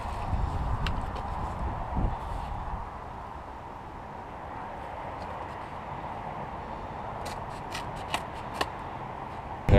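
Scissors cutting out a paper bike design make soft close snips and paper rustles over faint room noise, with a few sharper cuts clustered toward the end.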